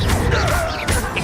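A Bombarda explosion spell hitting in the game Hogwarts Legacy, a loud brief blast and crash with a rumbling low end and magical swishing tails, lasting just over a second.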